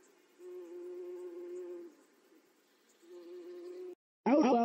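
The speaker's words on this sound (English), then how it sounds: "Fuck off, you stupid, annoying little bee." A cartoon bee gives two long, steady buzzes with a short gap between them, close and fairly loud, followed at once by a sudden burst of a voice.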